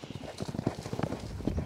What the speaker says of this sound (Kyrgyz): Биринчи чуркатып алайлычы бул ат